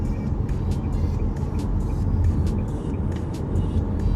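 Steady road traffic rumbles from inside a moving bus on a smooth morning drive, a continuous broad engine and road roar with faint ticking clicks, no talk.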